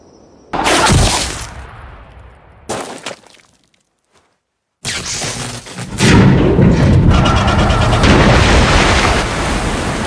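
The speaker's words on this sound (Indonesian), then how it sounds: "Ledakan mesin bor membuat air mulai membasahi tempat itu" A drilling machine explodes in a dramatic film scene. Loud blasts and booming bursts are split by a brief near-silence, then a sustained roaring, crackling rush takes over.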